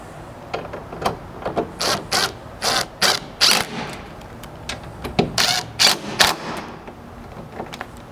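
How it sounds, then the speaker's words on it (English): A ratchet with a 7/32 hex bit tightens bolts on a Ford Bronco tailgate reinforcement. Bursts of rapid clicking come close up, one after another with short pauses between them, and no talking. "these you'll tighten with a 7/32 hex"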